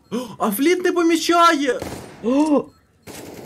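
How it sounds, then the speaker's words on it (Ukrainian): Bursts of gunfire from a Counter-Strike match on the Inferno map, sitting low beneath fast, continuous esports commentary. "бьорстом стріляє"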